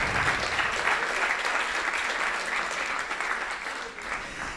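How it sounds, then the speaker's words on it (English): Steady audience applause at a startup pitch event, dense and continuous clapping from a room full of people for several seconds, tapering slightly toward the end. "you can applaud"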